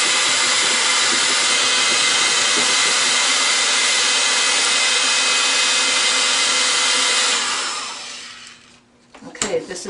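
A drying tool blows hard and steadily to dry paint on a blended painting, a loud continuous rush for several seconds that then winds down and stops, followed by a few small knocks.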